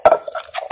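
Som tam papaya salad with crab, fermented fish sauce, salmon and fresh shrimp being pressed with a pestle in a mortar, giving a few quick close knocks and clatters.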